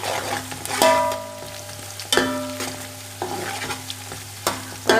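Onions and spices frying in a pot for vegetable pulao, a steady close sizzle broken by sharp scrapes and clatters of a spoon stirring at irregular intervals, with no talking.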